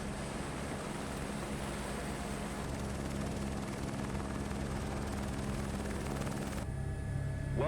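An aircraft engine and propeller in Microsoft Flight Simulator 2024 drone loudly and steadily in close, unbroken noise, then the sound drops away abruptly near the end.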